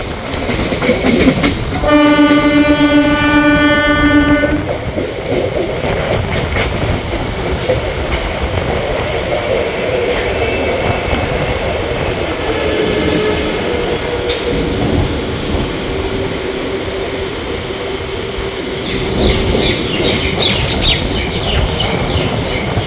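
At Santragachi Junction's platform 3, a train roars loudly close by, with a long horn blast early on, squealing wheels and continuous rail rumble.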